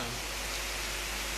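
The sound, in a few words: rain falling at dawn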